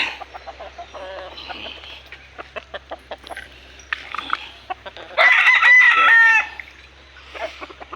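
Backyard chickens cluck in rapid, irregular bursts close by, then a rooster lets out one loud, drawn-out crow before the clucking resumes.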